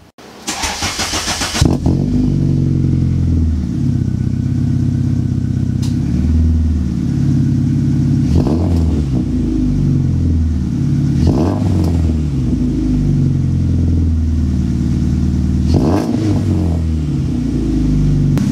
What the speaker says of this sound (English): what would the vlog be without a cold start?